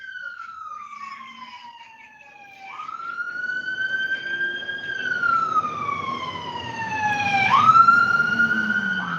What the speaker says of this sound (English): And we hear the sirens in the background.